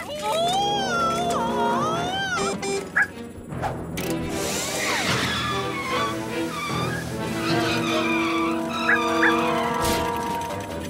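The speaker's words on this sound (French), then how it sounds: "la voiture va se fracasser sur le bateau" A cartoon car skids toward a boat amid busy animated sound effects, whines and barking-like yips, with music and a crash-like hit over continuous character voices.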